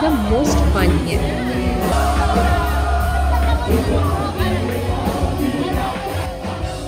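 Lively crowd in a Nashville bar during a live performance, with loud, dense chatter, whoops and shouts layered over music across the whole stretch.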